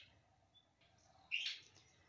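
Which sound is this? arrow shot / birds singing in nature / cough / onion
birds singing in nature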